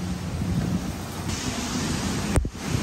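Strong wind blows at Manila Bay's Dolomite Beach, a steady broadband roar buffeting the microphone, with a brief sharp knock near the end.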